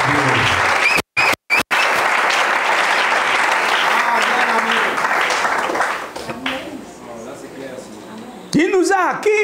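A church congregation bursts into strong applause to acclaim Jesus, broken by brief silent gaps, then fading to a softer murmur before a voice speaks at the end.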